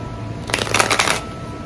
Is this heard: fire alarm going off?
no